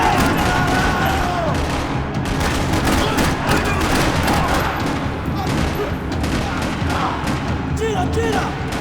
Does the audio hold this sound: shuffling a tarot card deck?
no